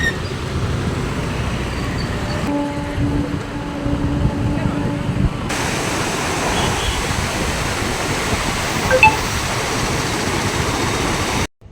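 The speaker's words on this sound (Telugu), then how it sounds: "మీరే చూస్తున్నారు కదా ఎంత వాటర్ ఫ్లో ఉందో." Rushing floodwater from a cyclone surges near a temple and pours beneath a bridge, a loud, continuous broadband roar that fills the whole clip and barely changes in level.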